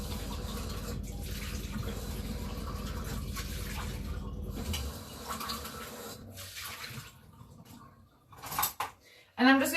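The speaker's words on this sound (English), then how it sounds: "going to empty the black beans out into the sieve and just give them a really good rinse" Canned black beans get a thorough rinse in a sieve, with running tap water splashing steadily for several seconds. A few clattering knocks follow near the end.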